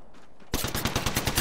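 Rapid automatic gunfire in Apex Legends bursts in suddenly after a quiet moment, a close, loud, evenly spaced string of shots about a dozen rounds long.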